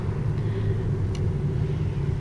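A car's engine idling while stuck in road traffic, a continuous low rumble that stays steady and close throughout, with no voices.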